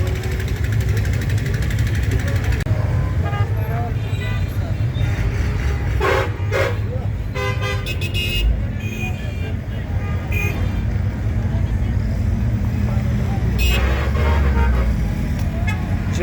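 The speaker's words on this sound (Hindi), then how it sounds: "जबल नूर ट्रैफिक का रश।" Heavy road traffic rushes by on the bypass road at Jabal Noor, a busy coach terminal, with constant engine roar and several car horns honking, some in short bursts.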